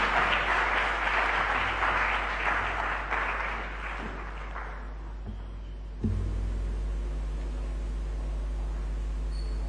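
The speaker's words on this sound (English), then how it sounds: "a round of applause for him" Applause for a regional minister at a government briefing, clapping that fades out after about four seconds, followed by a quieter electrical hum in the room.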